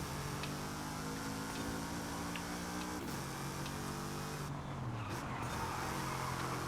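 A Maserati race car engine in a racing video game drones with steady harmonic tone, dipping sharply around the three-second mark then rising again as the throttle comes back on, with a second pitch drop near five seconds.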